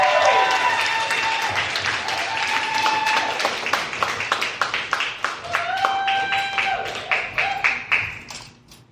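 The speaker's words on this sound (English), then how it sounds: "let's keep that applause going for our next poet" Applause from the crowd at a poetry slam grand final, clapping that starts dense and thins into scattered individual claps, with a host speaking over it and a few whoops rising through the room.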